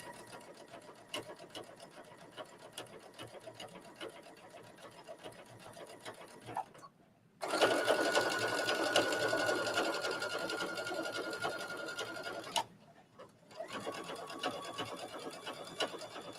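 A sewing machine stitches a seam on a trench coat, running in steady stretches with short pauses between them. The longest and loudest run falls in the middle, and there is no talking.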